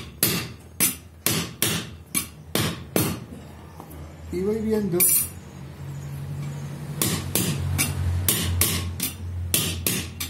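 Sharp, ringing hammer blows on a metal disc resting on a log, in quick runs, close by, with a pause where a person speaks briefly before the striking resumes.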